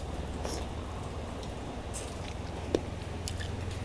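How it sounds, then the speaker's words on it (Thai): Light, steady rain patters softly and evenly, with a low hum underneath and an occasional sharper drip. "ตกไม่แรงแต่ตกตลอดเอวากับแอนไปตลาดตากฝนแน่เลยนี่"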